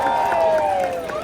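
A crowd cheers and claps at a Legoland Florida holiday tree lighting ceremony, with rising whoops riding over a steady bed of applause for just over a second.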